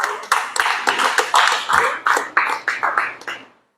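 A church congregation claps in a quick irregular run of sharp hand claps for about three seconds, fairly close and loud, then it stops.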